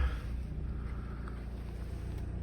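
A Renault Megane 3 with a 1.5 dCi diesel engine idles steadily, with a continuous low rumble and no voices.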